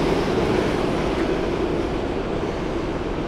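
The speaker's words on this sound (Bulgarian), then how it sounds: "Метрото минава отгоре." A Miami metro train rumbles overhead as a steady, dense roar that holds at the same level from start to end.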